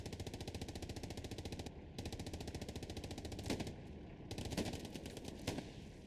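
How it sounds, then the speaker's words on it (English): Pump shotgun blasts in the war game Hell Let Loose land as about three spaced booming shots over rapid, continuous machine-gun fire that keeps up throughout. "Pump shotgun put to good work."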